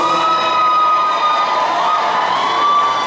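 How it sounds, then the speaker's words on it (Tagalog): An audience cheers and shouts for a contestant at a Mr. & Ms. DOE pageant, a steady, loud wash of crowd voices with high-pitched yells and whistles, continuous throughout. "Nag-cheer lang sila."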